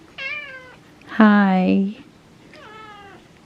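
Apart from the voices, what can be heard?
cat meowing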